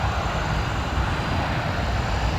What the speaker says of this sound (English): Look at them engines there, man.